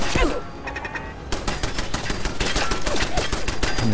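A machine gun turret firing in Fallout 4, a rapid, loud, continuous stream of sharp shots hammering away close by.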